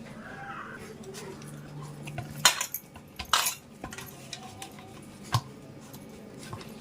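Badusha dough is worked by hand in a bowl for Sankranti, giving soft squelching and rubbing sounds broken by a few sharp clinks of metal on the bowl, close up with no talking.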